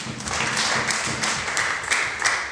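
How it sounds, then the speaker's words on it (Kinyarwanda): Audience clapping for the guests at a church wedding ceremony, a steady mass of hand claps with sharper taps standing out, continuous and fairly close throughout. "Reka nabo tubakomere amashyi."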